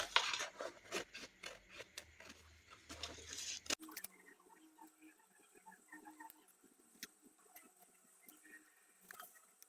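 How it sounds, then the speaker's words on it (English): Scissors fussy-cut a small paper butterfly for a junk journal topper, giving a busy run of close, rustling snips and paper rasps, louder at first and then quieter, scattered crisp cuts. "I'm just going to fussy cut this butterfly."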